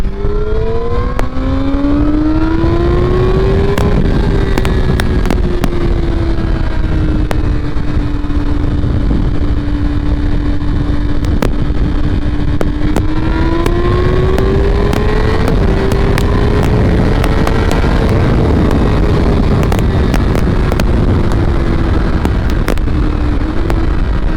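A Yamaha R6 sport motorcycle engine revs hard and downshifts, its loud high-pitched whine climbing and dropping through gear changes with sharp blips, continuous and close for the whole stretch.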